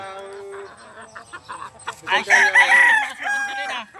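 Sweater-line gamefowl roosters crow in a backyard pen, several overlapping calls rising and falling over about four seconds, loud and close, with soft clucking between crows.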